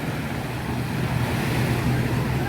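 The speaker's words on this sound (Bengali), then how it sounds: "জল ছুটছে" Sea water rushing onto the white-sand shore of Monkey Beach on Phi Phi Island, Thailand, a loud, steady wash of surf with wind across the microphone and a faint low engine rumble, like distant speedboats.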